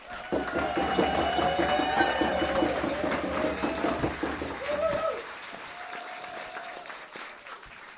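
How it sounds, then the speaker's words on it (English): A crowd applauds at the grand opening and building blessing of a river nature center, a full burst of clapping mixed with cheers and whistles that fades after about five seconds, leaving a few scattered claps and a lone whistle. "please give a huge round of applause for this next one, Annette Hanson"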